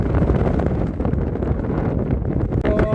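Strong wind at a campsite buffeting the microphone with a loud, low rumble and gusty roar, steady throughout with a brief flutter near the end.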